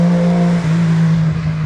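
A rental car's engine drones loudly and steadily nearby in the rain as it drives past in Ebisu, its low hum shifting slightly in pitch.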